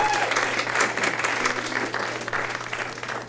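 A small live audience at a songwriters' showcase in a music cafe claps steadily, with dense and even applause and no voices standing out.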